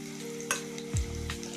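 Turmeric is stirred into capsicum rice frying in a pan, a soft steady sizzle broken by a couple of quick scraping strokes of the spoon, close and fairly quiet with no talk.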